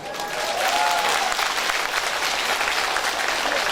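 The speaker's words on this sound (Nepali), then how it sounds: "हामीले भएको देखेर ताली ठोकेका छौँ" A congregation applauding at a religious gathering, dense continuous clapping that swells quickly and holds steady, loud and close, with no speech over it.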